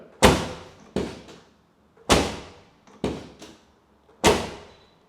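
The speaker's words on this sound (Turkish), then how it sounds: "Tok kapı sesi." A Mercedes W210 E200 Kompressor car door shuts five times with a solid, heavy thud, each close, sharp impact fading quickly before the next.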